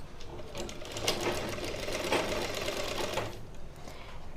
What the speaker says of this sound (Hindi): यहाँ पे सिलाई स्टार्ट करेंगे कंधी जोड़ने के लिए